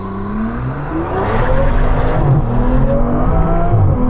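An Aston Martin V12 Vanquish on winter tyres launches in a 0-60 run, its V12 engine roaring loud and close as the pitch sweeps upward through repeated gear changes.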